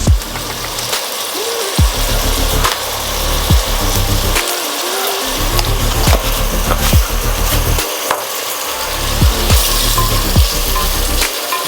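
Frying in a clay pot with a little salt, ice apple biryani preparation: a steady broadband sizzle runs throughout, broken by repeated low thumps and scraping knocks of stirring, fairly close and loud, with no talking.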